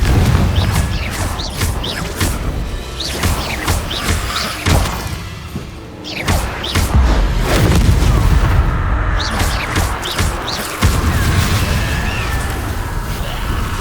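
Repeated Confringo spell blasts in Hogwarts Legacy, a dense run of booming explosions and crackling bursts, loud and close over a continuous rumbling game soundscape, with a brief lull midway.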